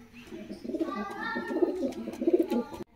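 Several pigeons coo in a low, throaty, overlapping rhythm after bathing, close by and fairly soft, with a few faint chirps above.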